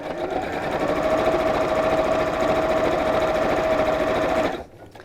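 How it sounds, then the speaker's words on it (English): A sewing machine stitches bias binding along a crease line, running in one steady, close whirring burst for about four and a half seconds before stopping abruptly. "we'll carry on sewing right down that crease line"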